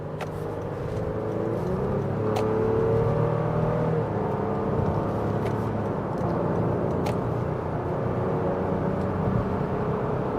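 A 2024 Honda Pilot Touring SUV with a V6 accelerating on a highway, a steady engine whir rising and falling through gear shifts over constant road and wind noise, heard from inside the cabin.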